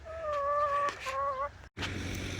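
Chickens roaming a yard outside their fenced area, with a faint, brief burst of clucking and tonal calls over quiet outdoor background, followed by a short dropout and low noise.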